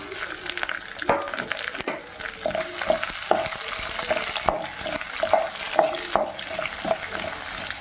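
Garlic and onion fry in a pan for a chutney, making a steady sizzle under repeated scraping stirs of a spoon against the pan.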